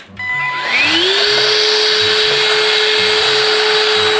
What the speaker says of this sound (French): Vous avez juste à prendre votre aspirateur et aspirer ce que vous voyez tout simplement.